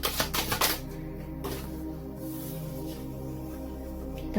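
Green Witch Tarot cards being shuffled, a quick close riffle of crisp flicking at the start, then quieter soft handling and a light tap at the end.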